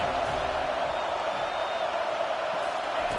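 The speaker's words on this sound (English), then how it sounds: "Decibels rising as the crowd gets behind this defense on 3rd down" A stadium crowd in a college football video game builds into a steady, dense roar on third down, loud and unbroken throughout with no clear voices on top.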